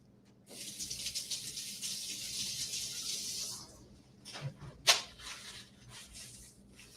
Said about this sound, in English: give my hands a quick rinse off